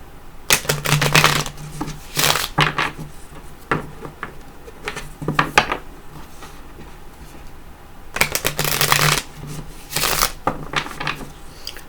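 A tarot card deck being shuffled, repeated crisp riffling bursts and soft flicks of cards close by, coming in clusters with quieter handling in between.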